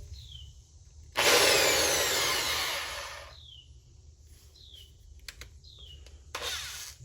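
A power drill spins a wire wheel in a sustained burst of loud, scratchy whirring lasting about two seconds, then brief shorter bursts and clicks follow against a quiet background.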